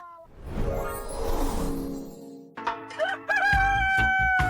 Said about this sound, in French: Je hais ce coq.